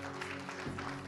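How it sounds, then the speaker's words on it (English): Audience applause at a Native American regalia fashion show, a short burst of steady clapping from a crowd for a model on the runway. "Let's give Sean another round of applause"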